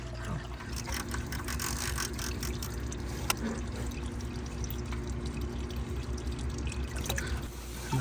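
Engine oil draining from the S68 engine of a 2024 BMW X7 M60i during an oil service, a steady pouring trickle of liquid that runs continuously and fairly close, with no talk over it.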